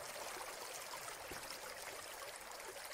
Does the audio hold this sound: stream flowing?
yes